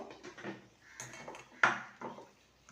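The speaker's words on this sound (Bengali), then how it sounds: "গ্যাসের ফ্লেমটাকে অফ করে দিলাম এবার ঢাকনাটা খুলে নেব" A lid lifted off a pot on a gas stove after the flame is switched off, giving a single sharp metallic clink among soft, quiet handling noises.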